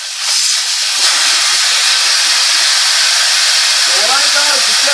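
Air from a car tire at about 30 psi rushes out through a high-pressure J-Flater pass-through valve in a loud, steady broadband hiss that runs unbroken for several seconds, with a faint voice entering near the end.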